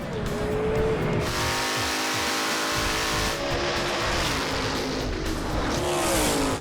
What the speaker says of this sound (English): Lynn Umberger's 75 Comet slides out of control